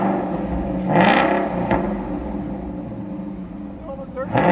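A 2019 Ford Mustang GT with a 5.0L V8 and Corsa Xtreme exhaust with Vibrant resonators revs in short bursts over a steady rumble. A voice talks over it.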